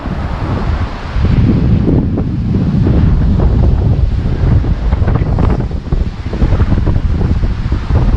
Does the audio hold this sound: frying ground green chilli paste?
no